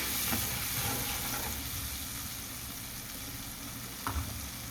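A mixed spice paste sautés in a pan for a rohu fish curry with beans, making a steady, moderate sizzle and hiss with a couple of soft stirring knocks near the end, heard alone.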